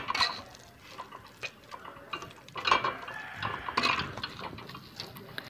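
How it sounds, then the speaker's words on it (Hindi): A masher works through cooked mutton and dal in a pot, making repeated soft squelching thuds and clinks of metal against metal at an uneven rhythm, close by with no talking. "देख सकते हैं मैं घोट रही हूँ अच्छी तरीके से इसको मैशर की मदद से"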